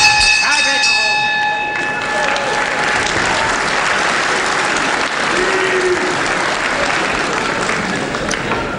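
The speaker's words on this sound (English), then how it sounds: "simply great first round applause there by this really fanatic wrestling crowd here at Croydon" An enthusiastic wrestling crowd at Croydon bursts into loud, sustained applause after the first round, a dense wash of clapping that holds steady to the end, with a bell ringing briefly at the start.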